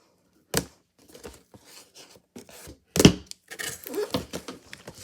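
Packaging of the Lego Indiana Jones 77015 Temple of the Golden Idol set being opened, with sharp cardboard thunks, tearing and crinkling rustles in uneven bursts, close and fairly loud, without talk.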